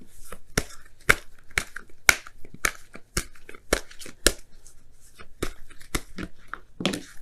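Oracle cards are shuffled and pulled in a series of sharp, crisp riffling and slapping bursts at irregular intervals, close and fairly quiet, with no voices.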